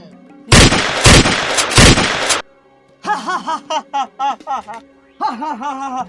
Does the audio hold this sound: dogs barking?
no